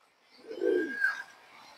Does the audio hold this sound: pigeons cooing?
yes